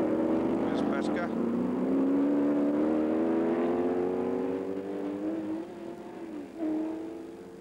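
A historic racing sports car driven by Pescarolo passes at Montlhéry, its engine note rising and sweeping past with a gearchange, loud and close, while a commentator talks over it.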